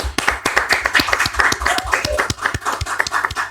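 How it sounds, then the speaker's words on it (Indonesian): An audience claps at an Indonesian charity organization's event, a brisk run of sharp, fairly close claps with uneven rhythm lasting a few seconds. "Tepuk tangan dong."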